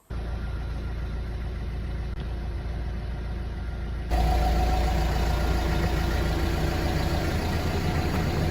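A car engine idles steadily in freezing winter cold while warming up, a continuous low hum that grows noticeably louder and fuller partway through, with no talking over it.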